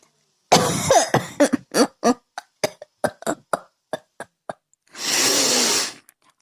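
A man coughs in a quick run of short, sharp bursts, then clears his throat with one longer, rasping push of breath, close and fairly loud.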